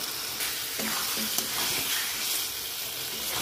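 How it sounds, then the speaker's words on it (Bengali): Chicken pieces are stirred and fried in an oily spice paste for a Bengali chal chicken curry, making a continuous soft sizzle with occasional utensil scrapes against the pan. "এবার আমি চিকেনটা দিয়ে দেবো। ভালো করে নেড়ে চেড়ে কষিয়ে নেবো।"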